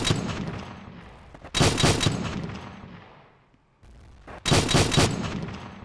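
Twenty-millimetre aircraft cannon fires in two loud bursts in the Ok Bomber air combat game, each burst lasting about a second, separated by a lull of fading engine and battle rumble.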